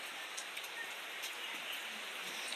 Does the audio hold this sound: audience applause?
no